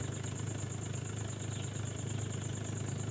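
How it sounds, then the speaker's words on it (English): A motorcycle engine idles steadily in a 1980s Soviet simulator video game, with a low, continuous rumble and a faint high whine, unbroken for the whole stretch. "Sounds like a motorcycle."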